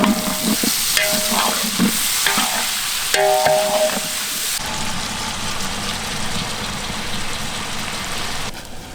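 Mint, chopped tomatoes and green chillies sizzle and fry in a pot for mutton leg biryani while being stirred, with scraping strokes and loud hissing that settles into a steady sizzle.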